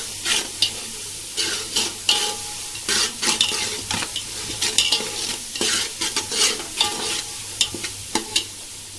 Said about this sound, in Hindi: अभी इसको भी भूनेंगे, गैस फास्ट है, अच्छे से भुनेगा